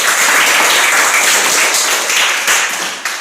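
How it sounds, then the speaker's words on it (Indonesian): Applause from a classroom of students rewarding a classmate's correct answer, dense overlapping claps sustained and fairly loud for about three seconds before tapering slightly. "Tepuk tangan untuk Mixon."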